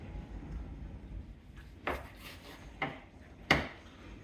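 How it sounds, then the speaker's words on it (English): A knife slicing through smoked brisket, a trimmed choice cut cooked on a Pit Boss Lexington 500 Onyx pellet smoker, making three or four separate scraping cuts over a faint background hiss. "All right, let's cut some slices here."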